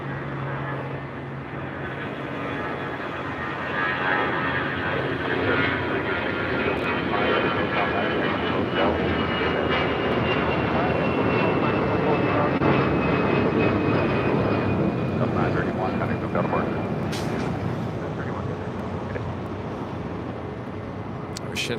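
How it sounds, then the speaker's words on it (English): A brand-new Alaska Airlines Boeing 737 MAX 8 arriving from Las Vegas lands at Los Angeles International Airport, its engine noise a broad, steady roar that builds and holds for many seconds before easing slightly toward the end. "This is Alaska Airlines. Flight 703 coming up from Las Vegas, and this brand new, just then delivered in September, 737 MAX 8."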